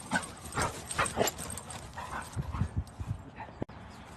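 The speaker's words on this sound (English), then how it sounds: "That was Fisher, a 4-year-old black lab." A four-year-old black Labrador dog makes several short barks, yips and whimpers close by during play, with busy rustling and movement around it.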